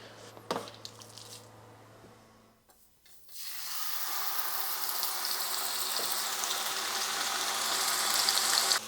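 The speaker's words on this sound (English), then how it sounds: "Let's sear this meat." Beef for a beef Wellington hits a hot pan and sears. A few quiet handling noises come first, then a loud, close hiss and crackle that builds and holds steady.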